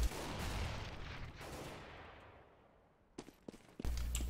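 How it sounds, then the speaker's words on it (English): Gunfire in a competitive first-person shooter match: a fading wash of blast and echo gives way to a few sharp, quick shots and then another loud burst near the end. "But what a shot from Crystal as RPK tries to come close"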